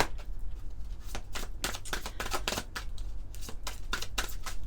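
A deck of Médéors oracle cards is shuffled by hand, giving a steady run of crisp riffling flutters and snaps, close and clear with no talking.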